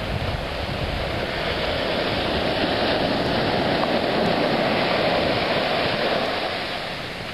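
Ocean waves break in a protected cove facing southwest, making a dense, continuous roar of surf that stays loud and steady throughout with no voices.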